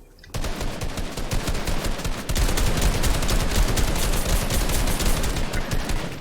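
Rapid continuous gunfire in a Fortnite trio tournament match, with a dense stream of automatic shots that grows louder partway through and carries on steadily to the end, with no talking.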